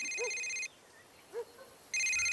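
Telephone ringing in two bright electronic bursts separated by a gap, with a faint voice murmuring in the quiet between rings.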